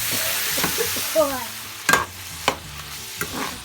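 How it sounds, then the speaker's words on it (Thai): Fried tofu stir-fried with oyster sauce in a hot pan, giving a continuous sizzle broken by a few sharp spatula scrapes and clacks against the metal. "น้ำมันหอยค่ะ ก็ผัดให้เข้ากันค่ะ"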